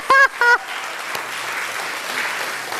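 An audience applauds in a broad, sustained wash of clapping after two short electronic tones at the start, at a church gathering.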